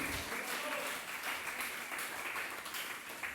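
A church congregation claps in sustained, fairly faint applause that continues evenly throughout, with voices mixed into the crowd noise.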